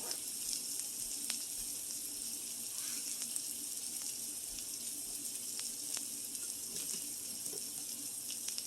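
Canned beans and beef searing in a pan for a bean dip, giving a steady, even sizzle and hiss that holds close and constant throughout, with a few faint clicks and no talking.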